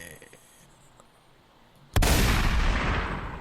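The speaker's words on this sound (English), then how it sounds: "we know you know where the shotgun button is" A loud shotgun blast played from a soundboard button, an abrupt close boom that hits after a quiet stretch and rings out with a long, dense tail.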